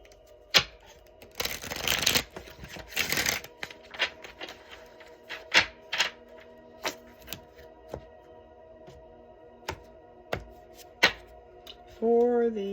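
Oracle cards shuffled for an herb card reading: two bursts of riffling followed by a string of sharp, separate taps and flicks of cards being handled and laid down, close and clear, with a voice speaking briefly at the end.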